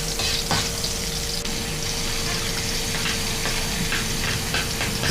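Onion, garlic, ginger and tomato sautéing in a pan for squid adobo, a steady close sizzle and crackle of frying with occasional stirring, heard alone without talk.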